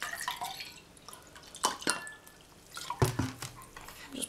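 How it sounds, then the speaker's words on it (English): A drink being poured, with irregular splashes and drips against a glass, a couple of clustered bursts and soft clinks, close and fairly quiet. "I'm just pouring myself a drink"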